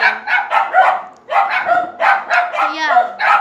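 Household dogs barking repeatedly in loud, close bursts at people walking past the house, a steady run of yaps with a short pause before the barking resumes.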